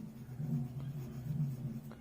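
A teacher writes out a class 4 maths solution. Faint, soft scratching strokes sit over a steady low hum, continuous and close.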